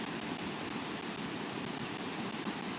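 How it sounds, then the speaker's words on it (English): A brook flows through snowy woods, a steady broadband rushing that stays even and continuous for a few seconds with no other distinct sounds. "That is the brook."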